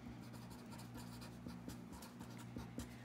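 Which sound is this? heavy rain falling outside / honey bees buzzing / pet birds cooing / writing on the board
writing on the board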